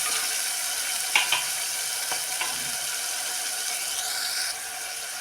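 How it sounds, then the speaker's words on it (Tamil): Chopped onions sauté in a pan with a steady hissing sizzle, broken by a few short scraping clicks as they are stirred. "அரிஞ்சு வச்சுருக்க வெங்காயத்தையும் சேர்த்து நல்லா வதக்கிக்கணும்"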